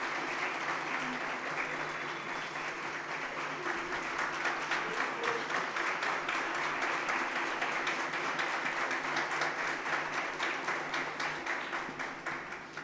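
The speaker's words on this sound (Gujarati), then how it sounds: "જોરદાર તાળીઓથી આપણે આ સન્માનને વધાવીએ." An audience gives sustained, even applause at an honouring ceremony during a community programme in Surat. The steady clapping fills the whole stretch without pause.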